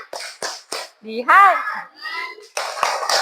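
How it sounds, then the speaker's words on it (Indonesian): Children clap hands in rhythm while chanting together in a sung, sing-song voice, sharp claps alternating with short chanted phrases, close and loud, as a group exercise in a church class. "Kita tepuk kitab suci ya, sama-sama."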